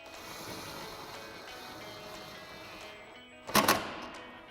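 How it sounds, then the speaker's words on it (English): An impact wrench fitted with a 13mm socket drives a headlight bolt on a 2015-2022 Mustang, a short loud burst of rattling hammering after a quiet stretch of steady background hum. "grab our 13mm socket on our impact and run"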